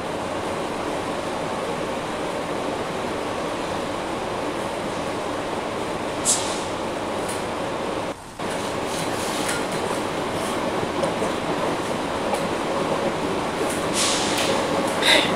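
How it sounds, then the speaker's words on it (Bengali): A train speeding across the Padma bridge with a steady, loud rumble of wheels and rails that holds for the whole stretch, a brief dip near the middle and a few bright metallic squeals above the roar. "ট্রেনের শব্দগুলো আমার কাছে খুবই ভালো লাগছে, খুব গতিতে ট্রেন চলছে।"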